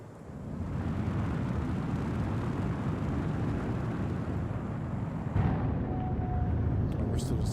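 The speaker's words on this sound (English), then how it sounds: "Well, look at all that afterburner." A big ship's afterburner roars in Star Citizen, a broad, steady, dense rumble that fills the whole stretch, with a faint high whine and light clicks near the end.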